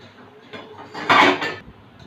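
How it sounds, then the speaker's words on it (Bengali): Hot water poured into a pan of curry on the stove, a short burst of sizzling, splashing hiss that swells midway and fades, with faint pan clatter before it. "এবার গরম জল দেব।"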